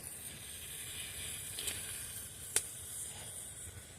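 Fire hisses softly and steadily in a snake-like way, faint and close, with one sharp crackling pop near the end and no talk.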